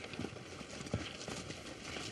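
Horse hooves clip-clop at a steady walking pace on a film set for The Return of the King, with a few sharper footfalls standing out from a busy background of ambient noise.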